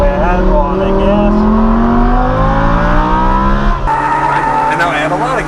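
A Lamborghini or McLaren sports car accelerating on a race track, with the engine note rising steadily as the throttle opens. It runs loud and continuous under an instructor's talk, then a brief lift near the end.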